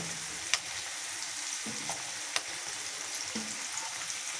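Green chilies dropped into an onion and tomato masala frying with ginger and garlic in a pan, giving a steady close sizzle with a few soft clinks and stirring sounds.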